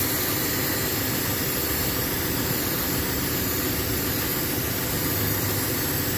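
A car engine with a rear main seal oil leak idles steadily after the area is sprayed with brake cleaner, a constant close rumble with a broad hiss and no talking.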